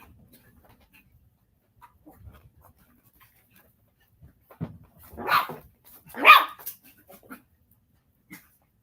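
Dogs fighting over a toy give a few close, gruff barks and growls in a short burst midway through an otherwise quiet stretch.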